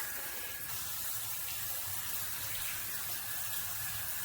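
A MakeFit filtered shower head in its front-sprayer mode sends out a steady, dense hiss of spraying water that stays unbroken and fairly close throughout, with no talking.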